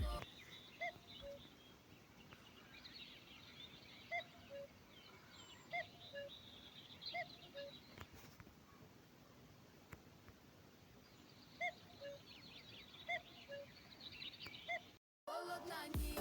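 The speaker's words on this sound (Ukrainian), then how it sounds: "Ось зараз чую сову." Owl calls repeat at a steady spaced rhythm in a Farming Simulator 20 countryside scene, short soft notes recurring every second or so over a constant ambient background hum.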